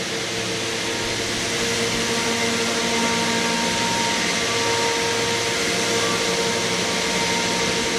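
A CNC router cuts a cabinet floor panel from imported plywood, giving a steady, loud, broadband roar with a whining tone that holds unbroken throughout.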